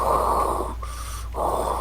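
Someone's heavy breathing while concentrating, close and raspy, in two long wheezy breaths with a short pause between them, over a steady low hum.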